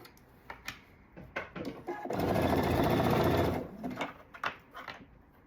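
A sewing machine runs in one steady burst of stitching through blue mesh fabric for a dress, loud and close, framed by quieter handling clicks and rustles before and after.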